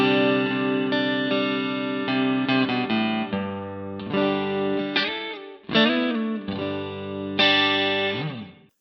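A clean electric guitar tone from a Harley Benton DNAfx GiT Pro modeler, bathed in big room reverb, rings through a sequence of sustained chords and melodic notes that fade out at the end.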